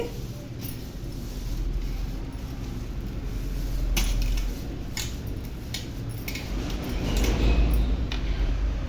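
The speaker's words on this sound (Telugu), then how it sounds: "ఇప్పుడు ఒకసారి కలుపుకుందాము చూడండి అటుకులు బాగా ఉడికే వరకు ఇలా కలుపుకుంటూ కుక్ చేసుకోవాలండి" Flattened rice (poha) stirred into boiling milk in a pot, with a spoon scraping and clinking against the metal sides in scattered light taps over a steady low bubbling rumble.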